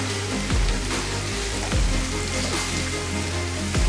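Garlic sizzles in a hot pan, a loud, close crackle with a few sharp pops rising out of the hiss.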